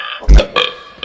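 A loud, deep burp booms out up close, then two shorter, weaker belches follow at a loose rhythm, with no talking over them.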